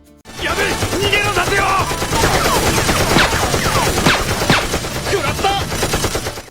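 Rapid bursts of gunfire crackle over a dense, busy mix with music and other action sounds in the anime One Piece, loud and continuous throughout.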